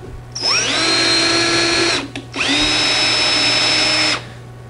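A power drill runs a tap down through a diecast aluminium heatsink, whining steadily for about two seconds, pausing briefly, then spinning in reverse for another two seconds, loud and close with no talk.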